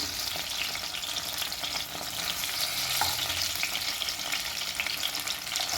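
Paneer tikka fries in oil in a frying pan, giving a steady, dense sizzle and crackle that runs the whole time, close and fairly loud, with no talking.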